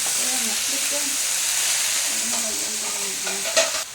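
Bean sprouts (togue) sautéing in a pan give a steady, loud sizzle and hiss with stirring scrapes throughout, a sharper clatter near the end, and a soft voice murmuring underneath.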